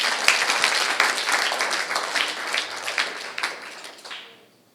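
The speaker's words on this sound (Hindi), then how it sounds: "सब बच्चे ताली बजाओ।" Children at an Arya Samaj annual celebration clap together in a steady burst of applause that fades out after a few seconds.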